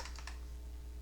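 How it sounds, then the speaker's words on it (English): A few quick keystrokes tap on a computer keyboard while a shortcut key is pressed, three light clicks in a brief burst, followed by a quiet steady hum. "I'm just hitting T on the keyboard"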